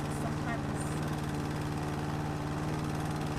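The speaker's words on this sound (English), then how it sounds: "The lawnmower is very loud." Steady, loud engine drone of a lawn mower running in the video game House Flipper, a constant low hum with harmonic tones that continues throughout, with a person talking over it.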